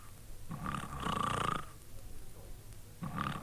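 A voice imitates snoring with two long, rumbling snore sounds, a pause between them, and a third starting at the end.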